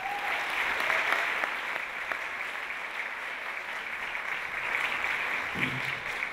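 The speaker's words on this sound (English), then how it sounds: "Please give a warm round of applause for Noelene." Sustained audience applause at a keynote speech, a steady dense wash of clapping from a large crowd for about six seconds with no talk over it.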